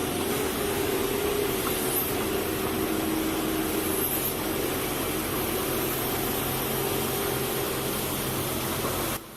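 A Volvo FH440 logging truck on a muddy forest road gives a constant, dense engine roar with a steady drone underneath, unbroken and fairly close, with no voices.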